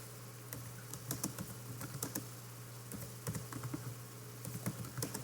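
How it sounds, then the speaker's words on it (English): Typing on a computer keyboard, with quick irregular bursts of key clicks close by, fairly quiet over a steady low hum, and no talking. "See if I can type it that way."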